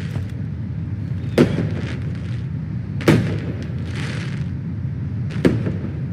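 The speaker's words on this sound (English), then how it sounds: "These are the worst fireworks ever." Three firework bursts crack in the video game PlayStation Home, each a sharp hissing pop spaced a second or two apart over a constant low background hum.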